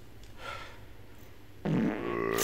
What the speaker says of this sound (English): You know when you fart and burp at the same time?